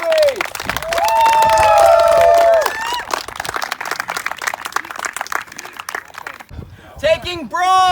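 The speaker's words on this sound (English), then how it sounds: "A round of applause for my Olympians" A crowd applauds and cheers for the winners at a Dagorhir battlegaming event, Ragnarok XXXIV. Dense, loud clapping runs for several seconds with voices calling out, then thins into scattered claps and talk.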